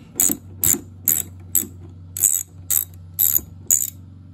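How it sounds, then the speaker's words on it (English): A ratchet backs out an 8mm screw from a BMW i3 bumper, producing eight sharp clicking bursts in an even rhythm about half a second apart, close and clear with no talking. "So I just do a quick, simple ratchet on it."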